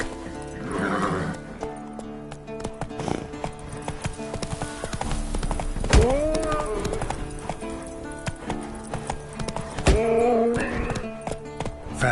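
A horse named Roach gallops with rapid clip-clop hoofbeats throughout, broken by loud neighs and whinnies, while a voice speaks briefly in the background.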